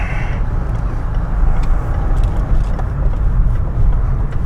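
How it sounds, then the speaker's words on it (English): Passing road traffic in Ripley, Derbyshire, a steady loud low rumble of cars and heavier vehicles close by with a brief hiss near the start and no speech. "There's a bit of traffic here."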